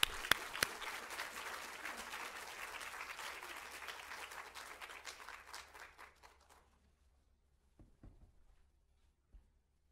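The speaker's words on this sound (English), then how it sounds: "let us give a big applause to Father Jerry" Dense audience applause welcoming a priest to the stage for a talk on Christian reconciliation at a church gathering. The clapping is steady and full, then thins out and fades to near silence after about seven seconds.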